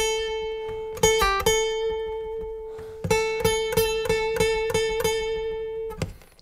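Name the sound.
guitar playing the last two bars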